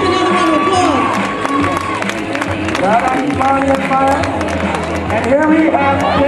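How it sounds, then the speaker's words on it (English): An audience at a school fashion show claps and cheers amid loud music and chatter, the applause mixed into a busy, continuous wash of sound. "Give another round of applause."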